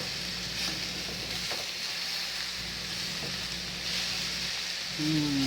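Pepper steak pieces and vegetables sizzle steadily in a hot pan just after being flipped, a close, continuous frying hiss that holds throughout.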